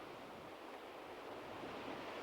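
Ocean surf breaking along a reef-lined coast near the Margaret River mouth in Western Australia, a steady continuous wash of waves with broadband roar, moderately loud and unbroken, without voices.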